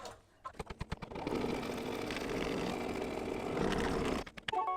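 An embroidery machine stitches a tack-down line around background fabric for a mug rug, a steady close mechanical whirr of rapid needle strokes running for several seconds between brief clicks at the start and end.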